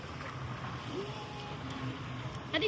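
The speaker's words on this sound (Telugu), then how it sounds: "అదిగో వస్తుంది చూడన్నా, వైట్ కలర్ బోట్ వస్తుంది చూడు." A white motorboat passing on the water at a beach park, heard as a faint, distant low rumble mixed with wind and water noise.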